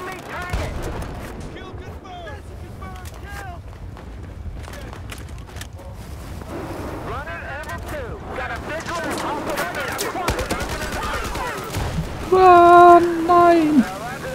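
Gunfire from many enemies in Battlefield 4, a dense crackling barrage of distant shots rattling on continuously beneath someone talking, with a brief louder burst near the end.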